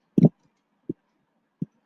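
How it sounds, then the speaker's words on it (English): A few isolated key presses tap out at uneven intervals, soft and close, in an otherwise quiet room. "Suppose I'm typing Google"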